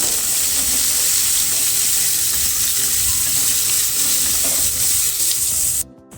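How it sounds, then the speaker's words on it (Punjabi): Sliced onions fry steadily in a pan for a dhaba-style mixed vegetable dish, a loud continuous sizzle with faint stirring that cuts off abruptly near the end. "ਲੰਬੇ ਪਿਆਜ਼ਾਂ ਨੂੰ ਵੀ 2-3 ਮਿੰਟ ਵਾਸਤੇ ਭੁੰਨ ਕੇ ਤਿਆਰ ਕਰ ਲਵਾਂਗੇ"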